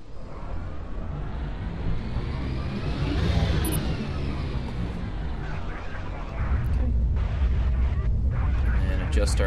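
A spaceship's jump drive engaging in the space flight game Evochron Mercenary: a sustained, loud roaring rumble that swells and rises in pitch, then settles into a deep, steady drone.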